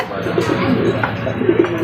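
Pigeons at a bird sale coo softly in short repeated low calls, close by, over a murmur of background noise.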